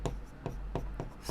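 Chalk or pen strokes writing a linear equation in two variables by hand during a maths lesson, heard as four short scratchy bursts in a quick, uneven rhythm over a low steady hum.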